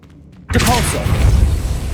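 A Depulso spell is cast in Hogwarts Legacy, a sudden loud magical whoosh and thump that bursts in after a quiet half-second and rolls on with a booming rumble, with a voice calling out the spell.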